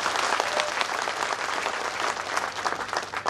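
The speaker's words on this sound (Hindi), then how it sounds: "तो जोरदार ताली बजाओ।" A large crowd at a BJP Parivartan Yatra political rally in Alwar city claps loudly and continuously, a dense, slightly uneven roar of hands for over three seconds.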